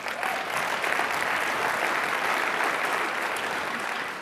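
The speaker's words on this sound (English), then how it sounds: "Round of applause" A keynote audience at a security technology conference breaks into loud, sustained applause, a continuous dense wash of clapping with no voices over it.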